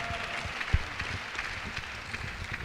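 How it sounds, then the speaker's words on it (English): An audience claps in a round of applause, a soft, scattered patter of many hands at moderate distance, steady and fairly subdued for the whole stretch. "Can you please give a round of applause?"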